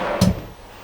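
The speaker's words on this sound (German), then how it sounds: "vielleicht hat die Schublade Soft Close" A drawer in a Pilote 2 C 690 Essential RS motorhome shuts with a single short dull thud, close by and alone, fading into quiet room tone.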